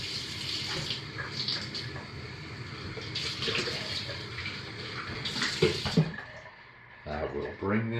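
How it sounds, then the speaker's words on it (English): Lye water pours in a steady stream into soapmaking oils, splashing continuously, with a faint gurgle near the end and some quiet clinking. "we're going to start, as usual, by slowly pouring our lye water into the oils"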